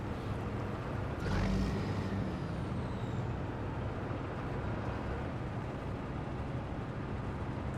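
A truck engine in the game Snowrunner, a low rev-range motor droning steadily and fairly loud throughout, with a brief hiss of air near the start.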